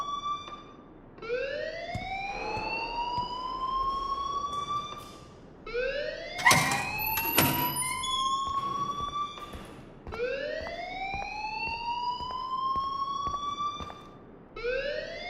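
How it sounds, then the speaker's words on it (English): A loud electronic alarm wails in repeated rising sweeps inside a school building in the Life Is Strange video game, sounding alone with no voices. "please turn off that alarm since that's your job"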